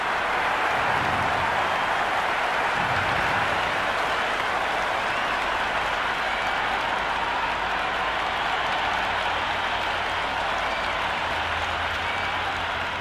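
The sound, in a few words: stadium crowd noise in video game Cricket 26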